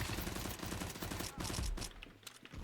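Rapid gunfire in Counter-Strike 2, a dense volley of shots that runs for about two seconds before dropping off into a few scattered bursts, loud and close within the game mix.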